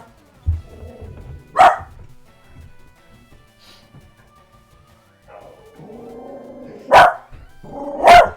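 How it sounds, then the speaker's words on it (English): A neighbor's older dog barks faintly in the distance, giving two or three sharp separate barks spread over several seconds, with quiet room sound and low rustling between them. "Now one of the neighbor's dogs is barking."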